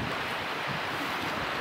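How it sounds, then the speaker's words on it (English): The Arkansas River rushes through the Royal Gorge near Canon City, Colorado, as a steady broadband roar of flowing water heard from high above, mixed with wind buffeting the microphone. "Down there, you can see and hear the Arkansas River"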